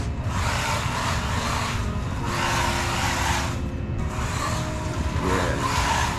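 A brushed Amoril 1/14 RC buggy drives around, its small motor whining in steady surges while the tires hiss and scrub over the ground, close and fairly loud with no talking.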